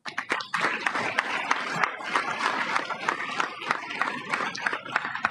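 Ministers and guests give a standing ovation in a supreme court plenary chamber at an inauguration ceremony, with dense, sustained applause and crowd noise running steadily throughout.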